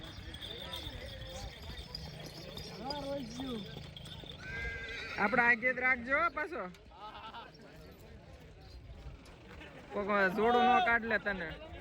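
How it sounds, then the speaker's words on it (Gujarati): More than 20 dancing horses at a village wedding procession in Sakhadasar, Talaja, Gujarat, neigh loudly in several bursts, with hooves clopping and voices talking between the calls. "એ ઘોડો છે ભાઈ આ ઘોડો છે"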